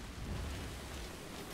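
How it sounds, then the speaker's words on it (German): Rain in the game Death Stranding is a soft, steady hiss of falling water with a faint low rumble, continuous and fairly quiet for the whole moment. "Alter Schwede, wieder Regen"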